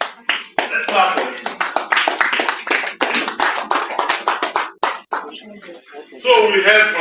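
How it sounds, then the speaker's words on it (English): Clapping of hands at a governing council meeting, a close, brisk patter of distinct sharp claps that thins and breaks near the end before a voice begins speaking. "Let's clap for him."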